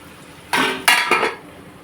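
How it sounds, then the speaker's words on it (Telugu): A metal lid clanks onto a pot of chicken curry in a home kitchen, three quick close clattering knocks in a row against a quiet background. "మూత పెట్టేసుకోండి"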